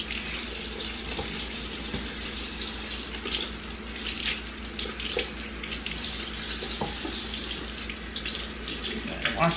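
Tap water streams steadily into a kitchen sink while celery is washed for a slow cooker beef vegetable soup, a continuous close rushing splash with small shifts as the stalks move under the flow.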